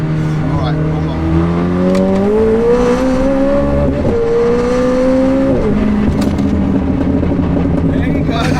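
A McLaren 765LT fitted with nitrous oxide revs hard toward the red line, engine pitch climbing steadily then dropping at a gear change, heard loud from inside the car with wind and road roar.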